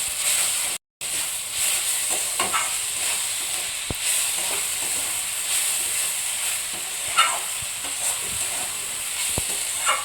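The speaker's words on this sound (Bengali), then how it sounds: "এটা একটু ভেজে নেব।" Salt is fried in a hot pan for masoor dal, giving a steady, close sizzle and hiss with a few soft stirring scrapes and one brief dropout.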